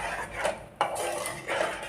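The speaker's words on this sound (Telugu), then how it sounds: "ఈ టైంలో కలుపుతూ ఉడికించుకోవాలి" Coconut sugar syrup is stirred in a metal pan, a spoon scraping and clinking against the pan in a few steady strokes, close by.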